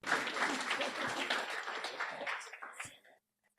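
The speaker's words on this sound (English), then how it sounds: "For the rest, let's save the applause to the end." Applause from the audience at a campus graduation ceremony, a moderately quiet burst of many hands clapping that tapers off and stops after about three seconds.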